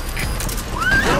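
A horse whinnies over loud, continuous game background noise, its rising and falling cry cutting through near the end, in Metal Gear Solid V: The Phantom Pain.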